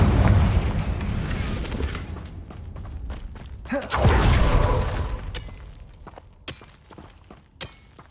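A Confringo fire spell bursts in Hogwarts Legacy, a deep booming blast near the middle, then sharp crackling impacts and scattered bangs fading over combat sounds.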